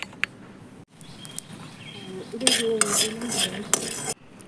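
Peanuts and white sesame seeds being roasted in a pan, with metal utensil scrapes and clinks against the pan, growing busier midway, and faint birdsong in the background.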